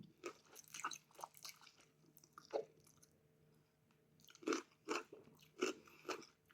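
Someone eats rice noodle salad with shrimp soaked in fish sauce, with close, moist chewing and crunching in bursts separated by short quiet pauses.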